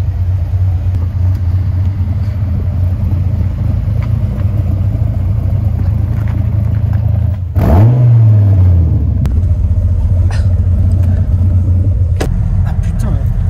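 A Dodge Viper RT/10 engine hums steadily up close, then revs sharply once with a rising roar before settling back to a low rumble.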